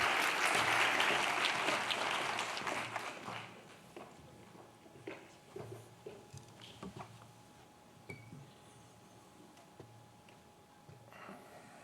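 Audience applause welcoming Dr Tim Sharp at a National Suicide Prevention conference: a loud, dense burst of clapping over the first three seconds that thins out into scattered claps and footsteps as it fades.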